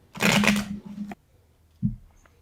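A deck of playing cards is riffled and bridged close by, a dense flutter lasting about a second, then a single short tap as the deck is squared.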